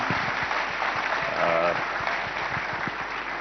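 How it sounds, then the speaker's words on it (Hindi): Studio audience applause at a televised Ideas of India event welcoming actor Aamir Khan, a steady dense wash of clapping throughout with a voice briefly heard underneath. "और तालियां जरूर होनी चाहिए"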